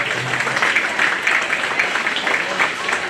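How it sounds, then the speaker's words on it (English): A crowd applauds intermediate showmen at the Greene County Fair, a steady moderate wash of clapping throughout with a voice faintly audible beneath it at the start. "Let's give all of our intermediate showmen a big round of applause"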